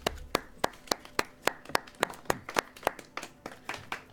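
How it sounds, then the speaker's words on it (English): A crowd claps in a steady, even rhythm, sharp claps repeating about three times a second, fairly close and without voices. "the crowd begins to clap"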